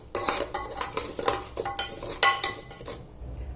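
Broken wheat (daliya) being stirred as it roasts in ghee in a pan: a steady run of scraping, clinking utensil strokes against the metal, close and moderately loud, with no talking.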